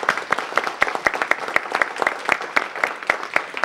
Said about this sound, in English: Let's give them all a round of applause for doing a great job.